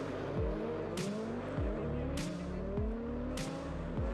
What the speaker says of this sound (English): This is absolutely top draw ice racing from the Trophy Andros here in Lens-en-Vercors.